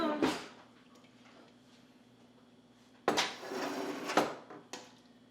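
A spoon grabbed from a kitchen drawer while serving Instant Pot chili: a clatter of cutlery and the drawer at the start, then more rattling and a knock a few seconds later, close and fairly loud.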